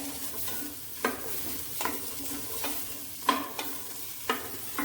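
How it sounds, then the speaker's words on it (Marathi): Potatoes and beans stir-fried in oil for a Konkani beans upkari, with a steady low sizzle under periodic scraping stirs of a spatula against the pan, about five strokes spaced roughly a second apart. "आणि बटाट घाल्या. जर अशी तेला भितर परतून घेऊया एक मिनिट भर."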